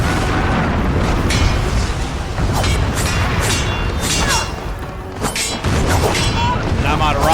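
Rocket explosions go off in the game Heavenly Sword, a dense run of loud booms and bursts over roughly seven seconds with a busy, crackling battle din throughout.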